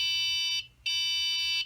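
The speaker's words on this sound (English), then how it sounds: "that annoying headless mode beeping, that's headless mode." Two long, steady electronic beeps, high and piercing, separated by a short gap, sounding close and insistent: headless-mode beeping from an XK X260 RC quadcopter remote.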